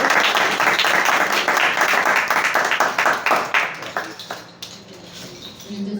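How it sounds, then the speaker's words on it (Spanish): A live audience breaks into applause to welcome a guest at a literary gathering, a burst of dense, close clapping that thins and fades over several seconds until only scattered claps remain. "Maestro, bienvenido, un aplauso."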